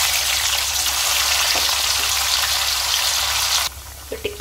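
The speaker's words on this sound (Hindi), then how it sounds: "अब इन्हें फ्राई कर लेंगे।" Besan tikkis frying in hot oil in a kadai give a steady, dense sizzle close up, which drops away abruptly near the end, leaving a few soft clinks.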